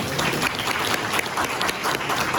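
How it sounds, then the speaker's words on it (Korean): A congregation at a university student worship service claps in thanks, a loud, dense, continuous burst of applause filling the room without speech. "우리 하나님 아버지께 감사의 박수 한번 올려드리겠습니다"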